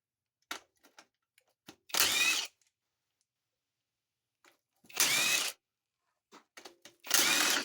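Power tool spinning off transmission pan bolts on a TH400 automatic transmission: three short, loud whirring bursts separated by quiet gaps filled with faint clicks and taps of sockets and bolts.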